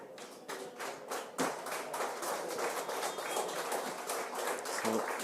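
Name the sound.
applause for substituted hurling players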